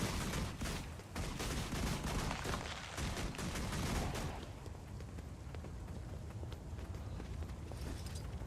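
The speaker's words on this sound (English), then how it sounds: "Gunfire!" Rapid bursts of gunfire in the video game Guild Wars 2, with dense crackling shots through the first half that thin into a lighter, rain-like patter of continued fire, loud and close without speech.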